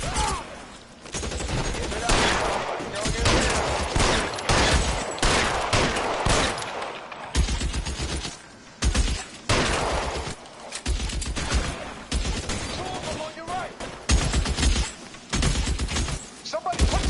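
Dense, sustained gunfire from the crime game L.A. Noire, a chaotic fusillade of rapid shots with heavy low booms and repeated bursts over about seventeen seconds, loud and close throughout, with occasional voices mixed underneath.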